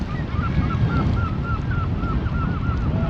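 Large flock of birds at Canoe Lake park in Southsea, with geese honking in repeated calls over a steady outdoor rumble of wind and background noise.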